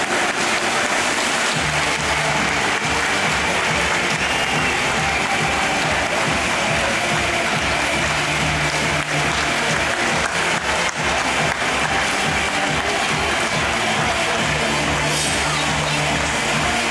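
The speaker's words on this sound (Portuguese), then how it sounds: "aplauso dos meus dois maridos, Max Flores, Rubens e Joshua." Loud, sustained applause from an audience fills the whole stretch, a dense steady patter of many clapping hands without pause.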